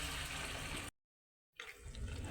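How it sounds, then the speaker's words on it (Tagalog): Water poured into a pan of sautéed moringa leaves while cooking gives a steady, loud rushing hiss that cuts out completely for a moment, then returns as a rough, crackling simmer. "lagyan natin ng tubig yan"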